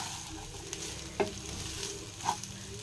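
Rice being fried with egg in a pan gives a soft, steady low sizzle, broken by two brief scraping clinks of stirring; quiet and close, with no talk.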